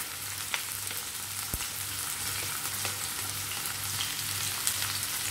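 Sliced onion sizzling and frying steadily in hot olive oil mixed with Dalda, a continuous close crackle with a few sharper pops and a low hum beneath.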